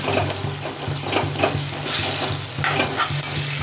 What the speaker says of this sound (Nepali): यो टमाटर पाक्दैछ अहिले।